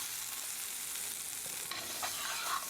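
Peppers and onions sautéed in butter in a pan on low heat give a steady, soft sizzle close by with faint stirring scrapes, and no voices.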